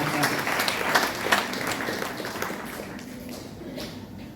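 Audience applause for teachers at a Lions Club ceremony in Meenambakkam, a steady round of clapping from a crowd that tapers off toward the end.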